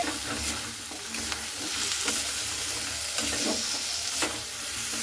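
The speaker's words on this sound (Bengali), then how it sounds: "চিংড়ি মাছগুলোকেও দিয়ে খুব ভালো মতো করে এভাবে আবার একটু নাড়াচাড়া করে নিচ্ছি" Prawns with pointed gourd and potato are stirred in a frying pan, a steady sizzle broken by several sharp scraping strokes of the spatula, close and clear with no talk.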